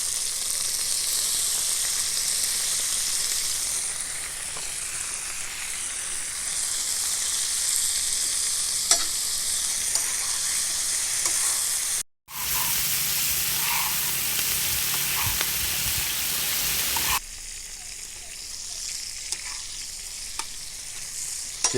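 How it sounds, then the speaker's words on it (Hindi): Chicken pieces sizzling and frying on a hot tawa with salt, a steady loud hiss throughout, briefly interrupted, with stirring noises and no talking. "इसको हल्का सा हम इसमें भून लेंगे।"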